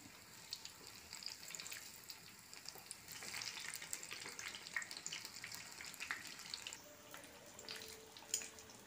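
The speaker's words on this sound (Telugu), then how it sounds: "బజ్జీ ఇలా ఫ్రై అవుతుంది" Bajji fritters fry in hot oil, a steady close crackling sizzle that hisses on without a break and with no voices.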